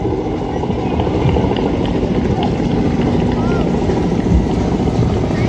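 A Kamov-31 naval helicopter flies over an Indian Navy Day display at Malvan Tarkarli, making a steady, loud rotor drone. A commentator speaks over the public address throughout.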